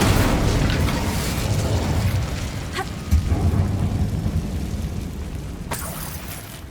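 The Incendio fire spell cast in the Hogwarts Legacy video game, inside an abandoned mine: a loud, sustained roaring rumble with a heavier thump near the middle, fading slightly toward the end.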